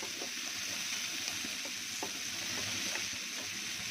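Onions and tomatoes fry in a pan for aloo paratha masala, giving a steady close sizzle with occasional soft stirring scrapes, no voices.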